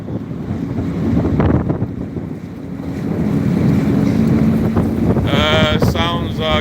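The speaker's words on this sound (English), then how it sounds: "I'm just worried about the wind." Strong wind buffets the microphone over rushing water and a boat's hum on Lake Erie at Port Colborne, with a brief higher whine near the end.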